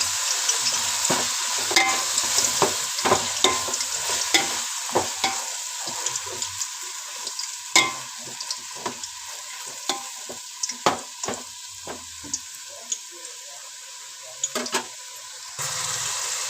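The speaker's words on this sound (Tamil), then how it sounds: "புதினா கொத்தமல்லி, இதெல்லாம் போட்டு நல்லா வதக்கணும்." Mint and coriander leaves sizzle as they sauté in a pan for biryani, with a steady frying hiss punctuated by frequent close scraping and stirring clicks of a spoon, no talking.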